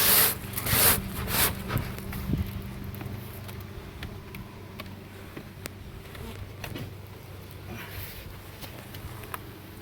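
Bees buzz steadily around an opened beehive during a colony check, a low droning hum with a few woody knocks and scrapes from the hive early on, fading to a softer continuous drone.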